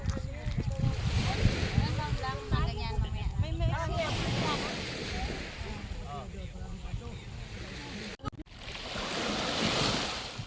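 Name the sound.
sea waves washing up near a beach campfire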